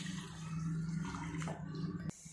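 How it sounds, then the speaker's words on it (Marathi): Water is poured back into a cooking pot while making a traditional chapati and jaggery halwa, a steady close splashing pour that cuts off sharply near the end. "आणि हे पाणी पुन्हा याच्यात ओतून घेऊयात।"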